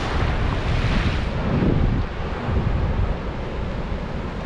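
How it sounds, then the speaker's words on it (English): Strong wind roars across the microphone at a lake bank below Kentucky and Barkley Dam, with rough water surging and washing underneath in a loud, steady broadband rush that swells midway, then eases slightly. "It's so loud from all the water and wind."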